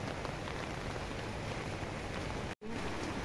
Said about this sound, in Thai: นี่บรรยากาศ ตอนนี้ก็คือ ฝนตกนะครับ